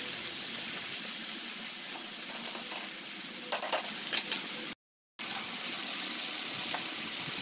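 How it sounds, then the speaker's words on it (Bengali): Water is added to a pan of vegetables for a Bengali fish-head curry with kolar bharali and potatoes, giving a steady, close hiss and trickle with brief splashy bursts and a short break partway through. "এবার অল্প জল দিয়ে দিচ্ছি সবজির মধ্যে, যেন সবজিগুলো ভালোভাবে সিদ্ধ হয়"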